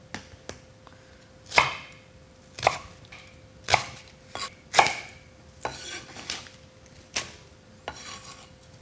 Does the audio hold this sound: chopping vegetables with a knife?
yes